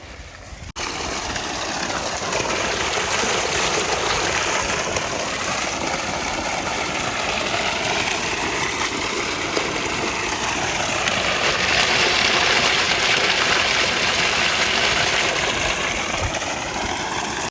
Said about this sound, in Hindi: मोटर शोटर चली हुई है